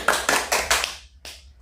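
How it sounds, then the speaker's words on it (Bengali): Children in an English vocabulary lesson give a short round of applause, a few quick bursts of clapping close by, followed by a lone clap after a brief pause. "একটা করতালি দাও"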